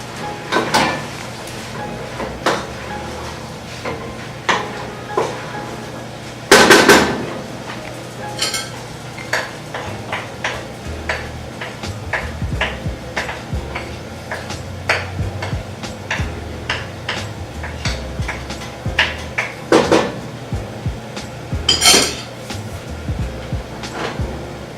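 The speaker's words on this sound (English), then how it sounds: "I stir." Sweet potato mash with tuna stirred in a pot, repeated scraping and knocking of a utensil against the pot in an irregular rhythm with a few louder clanks, close and clear without speech.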